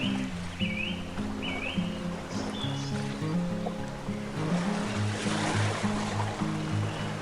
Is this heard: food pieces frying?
no